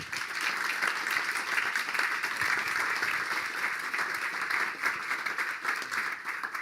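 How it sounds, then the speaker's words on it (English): Steady audience applause at a pub politics panel event, a dense even wash of many hands clapping for the panellists, moderately loud and sustained throughout with no talking. "I wonder if we might have a round of applause for our panellists to begin with."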